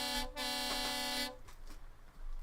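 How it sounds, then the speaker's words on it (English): A loud truck air horn from Euro Truck Simulator 2 blasts in one long, steady tone, breaks briefly, sounds again, then cuts off into a quieter engine rumble with a faint swell at the end. "I love them air horns, they sound so epic."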